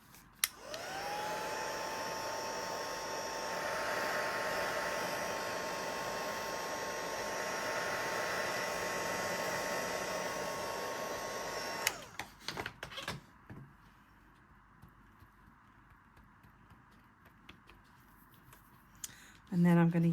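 A hair dryer blows steadily on a gel printing plate to dry the paint, a loud continuous whir lasting about twelve seconds before it clicks off, followed by quiet handling noises and knocks.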